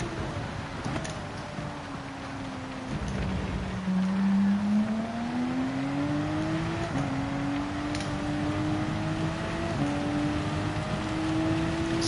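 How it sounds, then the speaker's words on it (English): Porsche Cup race cars at the Red Bull Ring in Gran Turismo 7, with rain hissing steadily beneath a loud engine that climbs and drops through the gears as the cars run on a wet track. "So the rain's really starting to get everybody now."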